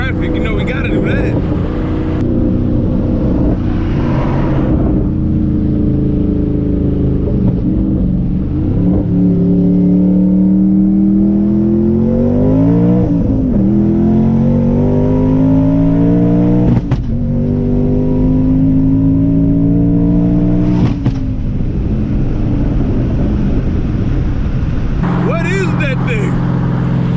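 Twin-turbo Boss 302 Mustang engine heard from inside the car on the road, droning loudly and climbing in pitch through repeated revving pulls with short gear-change dips, while someone talks over it now and then.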